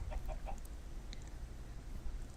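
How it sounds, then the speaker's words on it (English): Blocky farm chickens in Minecraft give a few short, soft clucks over a steady low background rumble, brief and fairly quiet. "So there's some chickens."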